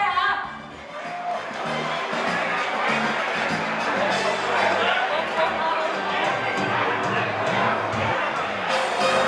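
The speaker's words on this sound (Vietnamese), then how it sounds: "Và xin quý vị cho một tràng pháo tay ạ." An audience gives a sustained round of applause and cheering at a live stage event, a dense wash of crowd noise with scattered whoops and chatter throughout.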